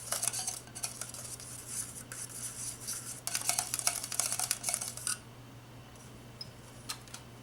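A spoon stirs melted melt-and-pour soap, making soft clinks and scraping taps against the container in irregular bursts, fairly close and quiet, then trailing off to near silence with a few final light ticks.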